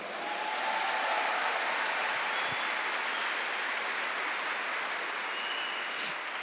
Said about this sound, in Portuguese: Pode aplaudir essa palavra.